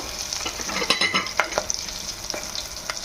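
Green chillies frying in a pan for tomato chutney, with a steady close sizzle broken by several scraping stirs of a spatula, no voices.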